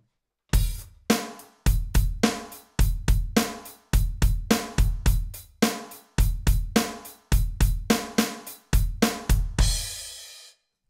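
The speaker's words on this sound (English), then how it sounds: "the kick and the snare variations are always in sync with your eighth note flow on the hi-hat" Drum kit groove with kick and snare landing in sync with steady eighth-note hi-hat strokes, loud and close, repeating in even bars and ending on a ringing cymbal crash.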